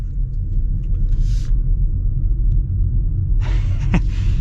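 Steady low rumble of a 2022 Ford Mustang Mach-E electric car in motion with its artificial propulsion sound on, a continuous droning hum, brief hiss and higher whooshing tones surfacing near the end, no speech.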